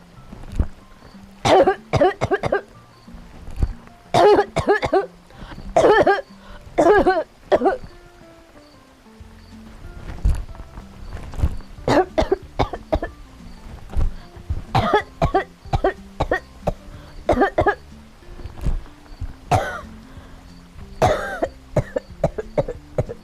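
A human voice imitates a frog coughing, with close, loud hacking bursts repeated in quick clusters separated by short pauses throughout.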